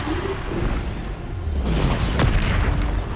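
Bombarda blast spell in the Hogwarts Legacy video game: a deep booming burst with a whooshing tail, loud and close, set within ongoing spell-casting combat noise.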